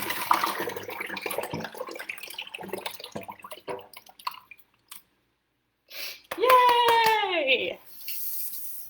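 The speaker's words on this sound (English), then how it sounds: "See how cool that is when you can get your boat to go all the way around your sink like that?" A small homemade rubber band paddle boat churning through water in a household sink, splashing and paddling in bursts, with an excited voice cheering over it and a spoken countdown before.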